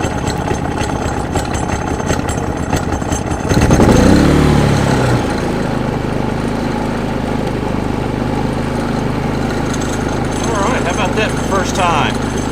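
Powerhorse 4500 inverter generator cranked on choke, catching with a loud burst around the start and then settling into a steady, continuous engine hum that runs throughout under background noise.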